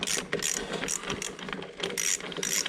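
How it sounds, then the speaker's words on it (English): A hand ratchet clicks rapidly while slackening two M6 nuts on a Dodge Ram air suspension compressor, a dense run of close, loud metallic ratcheting over a faint background hum. "we need to slacken off the two M6 nuts"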